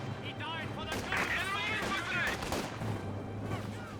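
Gunfire in a Company of Heroes 2 match: dense crackling bursts and rolling battle noise, loud and continuous, with a voice talking over it.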